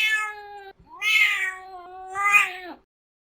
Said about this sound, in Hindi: झाड़ियों में घुसी बिल्ली पंजे झाड़ झाड़ कर गुर्रा रही थी।